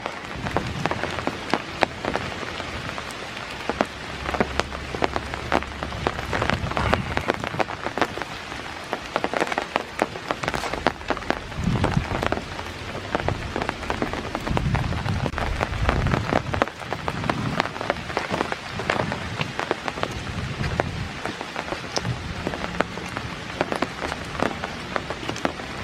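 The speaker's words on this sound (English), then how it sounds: "Still raining." Steady rain patters on leaves and the ground along a wooded park trail on a rainy morning, a dense, continuous hiss with scattered close drops throughout.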